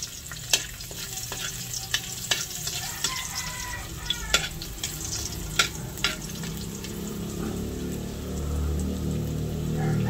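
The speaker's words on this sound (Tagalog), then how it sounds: "Ilalagay ko na po yung bawang. Akin na pong igigisa." Garlic sautéing in a hot pan, a steady loud sizzle with sharp clinks of a utensil stirring and scraping at irregular intervals, the frying swelling louder toward the end.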